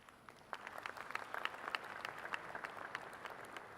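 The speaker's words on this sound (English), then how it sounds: "I thought that would elicit much better applause than what you are giving now." An audience at the ITU Telecom World 2018 opening ceremony gives scattered, modest applause, soft clapping rising after a quiet moment and continuing at a fairly faint, distant level.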